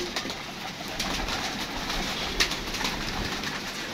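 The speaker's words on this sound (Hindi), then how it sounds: "ये देखिए कबूतर दाना पानी के लिए उतर रहे हैं नीचे" Pigeons landing for feed and cooing steadily amid a hissy outdoor background, with occasional wing flutters and a brief sharp chirp; no voices.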